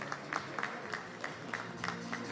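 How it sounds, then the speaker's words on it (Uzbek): An audience at a republic-level competition award ceremony applauds with steady, rhythmic clapping from many hands, heard faint and slightly distant. "Olqishlab qo'yamiz muhtaram mehmonlar."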